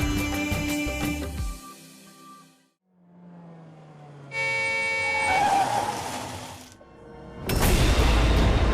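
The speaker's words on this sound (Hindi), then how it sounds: "इतनी बड़ी गाड़ी, इतना तेज हॉर्न, सुनाई नहीं देता तुम्हें?" A loud car horn blares in sustained honks, breaking in abruptly after a quieter stretch, with traffic noise around it.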